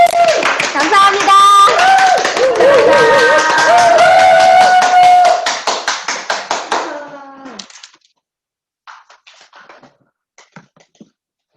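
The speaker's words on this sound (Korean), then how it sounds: "멋진 강의 해주신 양민경 사님께 다시 한번 큰 박수 부탁드리겠습니다" Audience applause after a lecture at an online seminar: dense clapping runs under a voice and tones, thins into separate claps and fades out by the eighth second, followed by a few scattered late claps.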